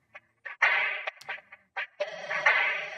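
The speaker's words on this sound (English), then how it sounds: "there's the mid part of the snare and there's the high part of the snare" A separated top stem of a drum loop, processed in Regroover, leaves mostly the mid-range snare body: a run of short, thin, papery snare hits with uneven spacing, some brief and some with a ringing tail, heard alone.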